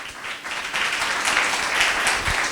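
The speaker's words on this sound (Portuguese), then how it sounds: "louve a Deus com suas palmas" Church congregation applauding with their hands after a prayer, a steady wash of clapping that swells and holds at moderate loudness throughout.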